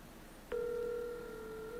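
A telephone call being placed, with a short click followed by a steady, sustained electronic tone over a soft background hiss.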